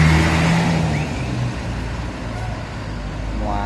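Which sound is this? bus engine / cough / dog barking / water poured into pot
bus engine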